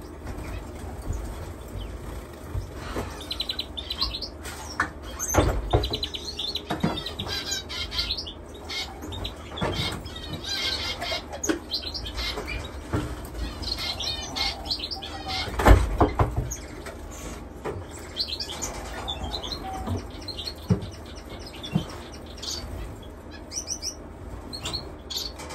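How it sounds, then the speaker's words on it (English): Finches chirp and tweet continuously in a breeding cage bird room, with many overlapping short calls and occasional wing flutters and rustles at moderate volume. "So just enjoy the sounds of the birds,"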